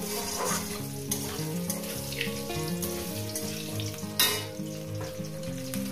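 Potatoes sizzle as they fry in a home kitchen pan, a steady hiss running beneath prominent background music for the whole stretch, with a brief louder clatter near the end.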